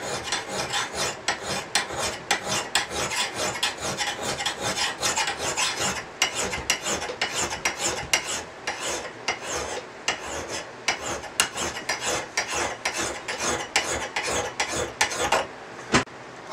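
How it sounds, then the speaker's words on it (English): A Hults Bruk axe edge is worked by hand in quick, even back-and-forth rasping strokes that repeat steadily, close and fairly loud, with no talking. "just work that edge. and you can see it polishing the edge."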